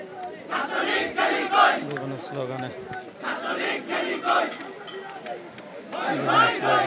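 Protest crowd at the Shaheed Minar, Dhaka University, chanting slogans in loud rhythmic bursts of many voices, rising and falling in waves with shouted calls between them.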